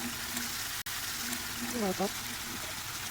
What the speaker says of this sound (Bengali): আবারও ভালোভাবে কষিয়ে নেব পটলটাকে